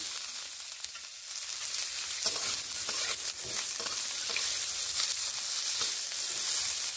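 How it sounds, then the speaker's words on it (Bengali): Potato pieces frying in hot oil with nigella seeds and dried chillies, a dense continuous sizzle with frequent stirring scrapes close by. "কালো জিরে দিয়ে কয়েক সেকেন্ড নেড়ে নিয়েই দিয়ে দিচ্ছি আলু।"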